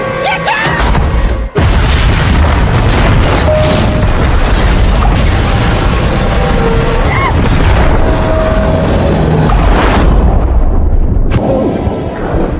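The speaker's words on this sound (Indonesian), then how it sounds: "kabin meledak akibat kombinasi gas bocor dan percikan api dari atap dan mobil mereka" A movie cabin blows apart from leaking gas and sparks in a loud, sustained booming roar with crashing debris that fills the whole stretch and tapers off near the end.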